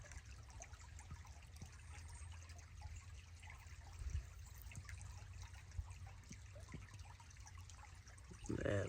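Creek water trickles and burbles steadily around a person wading upstream in a Midwest creek while artifact hunting, with low rumbling handling noise underneath and a louder burst near the end.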